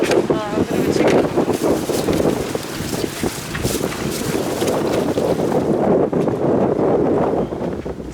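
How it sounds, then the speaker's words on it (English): Wind gusts and sea wash against a sailboat, a continuous broadband roar with buffeting wind on the microphone throughout, loud and close. "What's all these waves and the wind"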